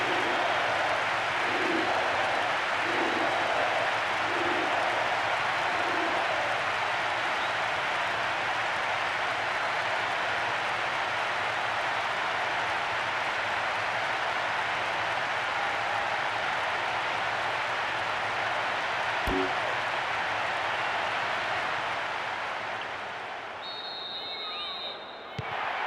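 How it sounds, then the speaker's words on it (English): A steady stadium crowd roar from the football video game PES 2012, a broad constant hubbub of massed fans with faint rhythmic clapping early on and a commentator talking over it. "Crowd starting to get impatient now."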